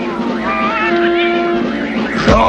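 A cartoon prehistoric cave cat meows in a long, wavering, pitch-bending cry, loud and close, ending with a short rising squeal.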